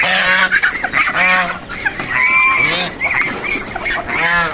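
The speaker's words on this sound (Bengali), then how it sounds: "এই যে চীনা হাঁসগুলো খেতে আসছে।" White Chinese geese honking repeatedly and loudly at close range as they come in to feed, their harsh nasal calls overlapping in an excited chorus.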